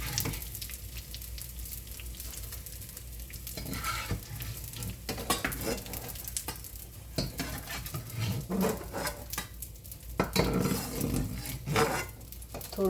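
Edible gum (gond) fries in hot fat in a pan while a spoon stirs it, giving a steady close sizzle broken by repeated scraping and clanking strokes against the metal.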